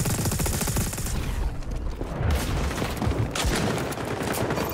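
Steady loud gunfire in the XDefiant shooter game, dense overlapping shots and booms running through the whole stretch, with a shotgun among the weapons firing close by.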